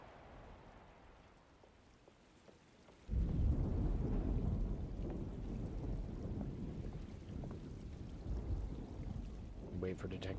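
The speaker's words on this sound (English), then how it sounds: "Looks like a storm's coming." A thunderstorm in the Alone in the Dark video game starts quietly, then loud heavy rain and deep rolling thunder crash in suddenly and continue steadily to the end.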